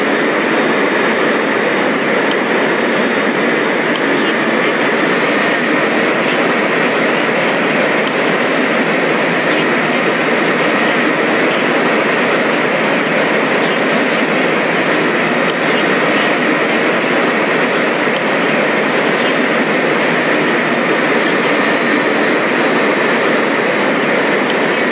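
A jet airliner taxiing to the gate after landing in a flight simulator game, its engine whine a steady, loud, unbroken roar throughout with no voices.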